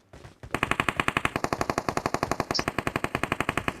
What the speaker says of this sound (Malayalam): വെടിയൊക്കെ ഭയങ്കര സൗണ്ട് ആണല്ലോ എന്റെ ഫോണില്